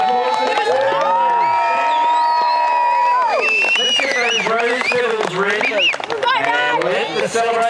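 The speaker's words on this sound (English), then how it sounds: "Big round of applause." Wedding guests celebrating right after the ceremony, loud and close: a burst of cheering, whoops and raised voices with shifting pitched shouts, building into a lively, busy crowd roar.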